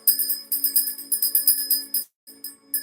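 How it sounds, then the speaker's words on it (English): A small bell rung rapidly and repeatedly, bright ringing strokes in a fast steady rhythm, close and clear, breaking off briefly before a few final rings. "Have a need to ring the bell."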